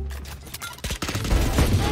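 Rapid gunfire from a weapon in the Roblox shooter Arsenal, a burst of dense cracking shots building louder toward the end with no talk over it.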